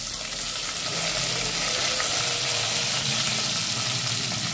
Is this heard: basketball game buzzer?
no